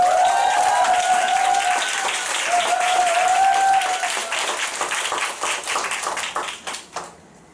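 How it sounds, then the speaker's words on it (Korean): Lively audience applause at a company gathering, dense and loud clapping that swells, then tapers into scattered claps toward the end, with a voice briefly heard over it. "박수 좀 주세요."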